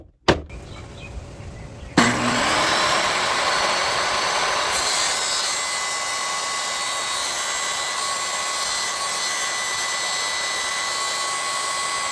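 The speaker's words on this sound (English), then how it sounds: "I assemble the vacuum and plug it into the new outlet." A vacuum cleaner switches on with a click and runs continuously on a boat, a loud steady whine and rushing air holding without pause.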